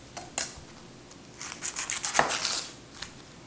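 A knife slicing large onions thin for homemade onion soup, a few isolated cuts followed by a quick run of crisp, close strokes on a board, quiet with no talk.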